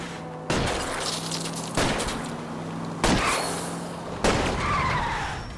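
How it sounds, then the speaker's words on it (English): Four loud, evenly spaced gunshots in L.A. Noire, fired at a fleeing car's tire during a road chase, each a sharp crack over a steady roar of engine and road noise. "I'll try to shoot out his tire."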